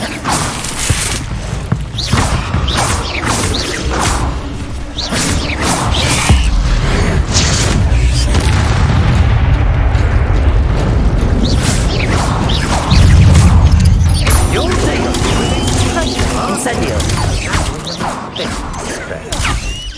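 Loud booming blasts and crackling bursts from the Incendio fire spell in Hogwarts Legacy fill the scene, rumbling heavily and repeatedly across a long stretch of game combat.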